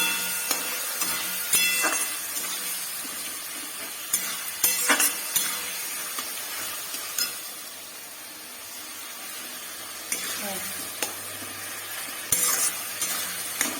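Raw mango pieces cooked with salt, turmeric and jaggery in a pan, stirred with a spatula: a constant sizzle with repeated scraping and knocking strokes over nearly fourteen seconds.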